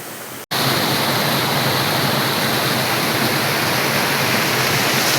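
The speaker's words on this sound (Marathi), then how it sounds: "हा पाणी मित्रांनो इथून पुढे नाल्याला जातोय." Overflow water from Avsare dam rushes down toward a stream during the monsoon, a loud, continuous, close roar of falling water after a brief gap at the start.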